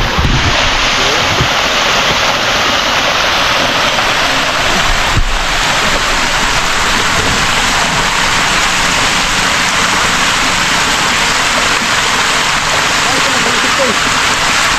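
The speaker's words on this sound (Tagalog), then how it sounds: "lumabas na po yung tubig na galing sa fish pan" Water gushes out of a fish pond outlet in a loud, steady roar that holds constant throughout, heavy rushing noise close to the microphone with a little wind buffeting.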